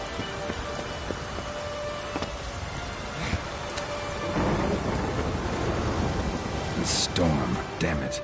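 A thunderstorm in the video game The Witcher 3 brings steady rain and rumbling thunder, with a louder roll in the second half and faint talk mixed in.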